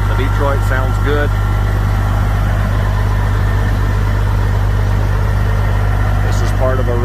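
A Detroit diesel engine in a 2016 Freightliner Cascadia 125 truck idles steadily in the background, a low constant rumble under a person talking nearby.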